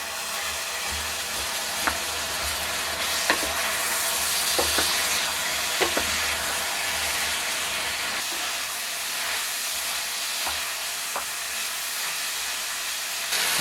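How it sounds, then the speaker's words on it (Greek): Chopped onion sautéing in a hot pan for tas kebab, a continuous loud sizzle and hiss with occasional clicks of stirring, steady throughout. "Και τώρα θα ρίξουμε και το κρεμμύδι."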